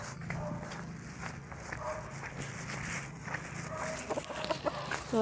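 Chickens cluck and chatter in a busy outdoor scene, with steady background noise and occasional rustling or footsteps nearby.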